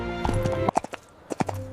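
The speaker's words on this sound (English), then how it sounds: "The prince mounted his horse and prepared to begin his journey home" A horse ridden by a prince clip-clops away in an animated fairy tale, a handful of clear hoof strikes in a short uneven rhythm between stretches of soft music.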